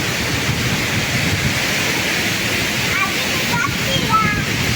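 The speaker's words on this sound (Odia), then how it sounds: "ଏଇ ଝଡ଼ ବାତ୍ୟା ଆସିଗଲା ହେଲା।" A strong nor'wester storm wind roars in a village, a dense continuous rushing blast with water-like sloshing, loud and unbroken throughout.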